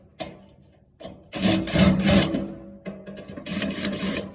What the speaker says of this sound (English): you'll take your 1/4-inch socket drive and remove those screws